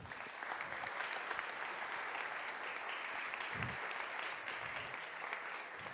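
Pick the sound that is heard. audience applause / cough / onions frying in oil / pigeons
audience applause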